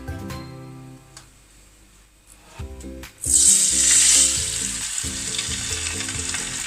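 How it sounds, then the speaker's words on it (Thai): Fish fried skin-side down in coconut oil gives a loud, steady crackling sizzle that swells sharply partway through and then holds, with a faint background hum and low tonal sounds underneath. "ก็ถ้าใครทอดปลา ต้องก็เอาหนังลงไปก่อนนะคะ ประมาณสองนาที"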